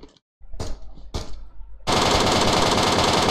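Sustained automatic gunfire in a battle royale shooter game, preceded by a few sharp single shots, then a dense, loud rapid burst that runs to the end.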